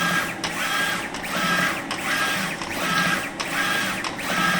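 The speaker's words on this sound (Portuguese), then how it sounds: "Essa impressão aqui, ela está imprimindo 720 por 1400" A photo printer prints a test page at high resolution, giving a loud, steady mechanical whir with regular rhythmic pulses as the print head sweeps back and forth, close up and without speech.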